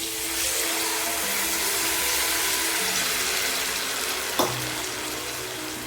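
Steady broadband sizzling as tamarind water is added to a frying pan for puliyodharai (tamarind rice), continuous and fairly loud, with a brief splash or clatter near the end.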